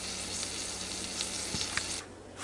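Food sizzles steadily inside a Ninja Foodi Deluxe pot while a cheeseburger roll cooks, a dense, even hiss that holds close and moderately loud before briefly thinning near the end.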